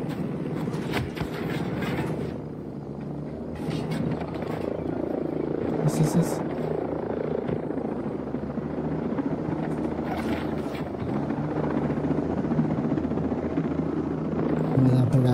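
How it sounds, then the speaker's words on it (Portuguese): A video game helicopter drones with a steady low rotor thrum throughout, joined by gunfire-like bursts and clatter, while players talk excitedly over it. "olha o tamanho do helicóptero"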